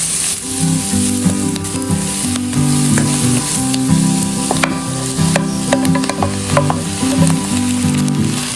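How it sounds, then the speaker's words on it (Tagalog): Black pepper sautéing in a pan for sweet corn and shrimp in coconut milk, a steady close sizzle with scraping stirring strokes throughout. "Hinigisa ko rin yung paminta"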